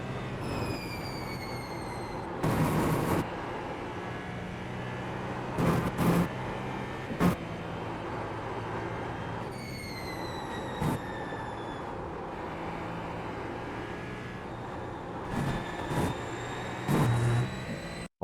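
Porsche GTP prototype race car in the iRacing simulator, a steady engine drone through the Porsche curves with repeated rising and falling tones as it shifts gears, and short bursts of louder noise.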